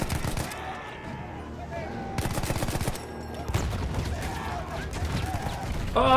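Mounted machine gun fire in the World War I shooter Battlefield 1, bursts of rapid shots mixed with wider battlefield gunfire and explosions, loud and dense, with someone speaking over the game.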